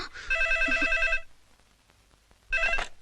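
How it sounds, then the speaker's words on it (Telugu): A telephone rings in two bursts of electronic trilling, a long ring followed by a quiet gap and then a shorter one. "అదిగో ఆయన ఫోన్"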